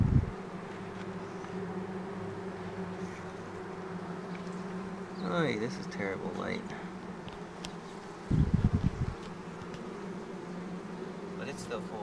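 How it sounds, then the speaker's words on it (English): Honey bees swarming around an open hive box with drawn and undrawn comb frames, a steady close buzzing drone throughout, with someone speaking briefly over it and a couple of short handling knocks. "But it's still full of bees."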